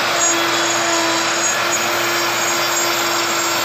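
Yeti SmartBench CNC router carving a textured step into wood, a loud steady spindle whine with a constant tone and continuous cutting noise, no talking.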